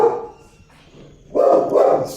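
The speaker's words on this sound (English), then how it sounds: "So excuse me, dog." A dog barks nearby in a few short, loud bursts, with a quieter gap between an opening bark and a pair of closely spaced barks, in an indoor room with no speech.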